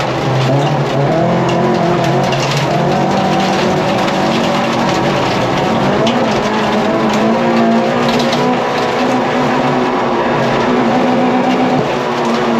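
Rallycross race cars at Lydden Hill roar loudly and continuously, engines revving and shifting pitch with tyre noise as the pack battles through a final, close and dense throughout with no voices.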